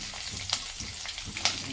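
Mustard seeds and split chana dal sizzle in hot oil with onion for drumstick poriyal, a steady close frying hiss with a few sharp pops and crackles throughout.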